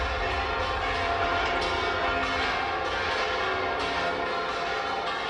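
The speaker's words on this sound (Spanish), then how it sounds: "El toque de las campanas llama a los fieles." Church bells ring inside Burgos Cathedral, a dense, reverberant wash of overlapping tolls that fills the whole stretch at a steady, fairly loud level with no voices.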